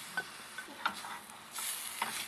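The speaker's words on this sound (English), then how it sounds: "Stir that in." A spoon stirs flour into meatball stroganoff with mushrooms in a hot pan, giving a few soft scraping strokes over a faint, steady sizzle, close and quiet, with no talking.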